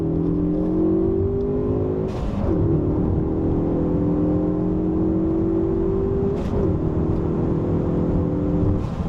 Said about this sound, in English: Now let's feel that torque in second gear.